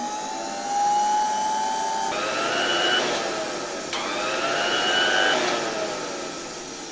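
A 1924 Electrolux Model 5 vacuum cleaner motor runs close by with a steady whirring whine, its pitch and tone shifting a couple of times as it keeps going, with no voices.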